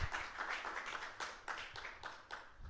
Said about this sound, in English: Can we get a round of applause for our guests?